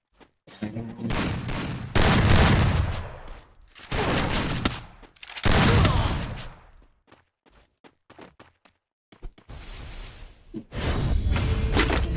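Loud bursts of gunfire from the battle game Free Fire land as headshots in several separate clusters of rapid shots. Quiet gaps fall between the bursts, with some game noise and brief speech in the breaks.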